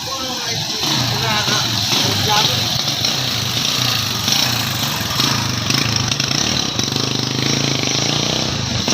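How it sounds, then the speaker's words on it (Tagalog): A motorized tricycle engine drones loudly and steadily on a street, a continuous rough motor rumble that dominates the whole stretch without pause. "Tingnan ng tricycle."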